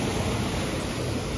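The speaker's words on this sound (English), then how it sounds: "Look at this waterfall." A waterfall on a themed mini golf course gives a steady, dense rush of falling water that fills the whole moment with no pauses, loud and close.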